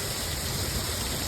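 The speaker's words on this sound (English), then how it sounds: "That's a pretty sweet morning rain" Steady morning rain falling on a farm during corn harvest season, a dense, even hiss of drops with no breaks, close and moderately loud, and no voices over it.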